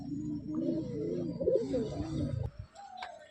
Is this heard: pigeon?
yes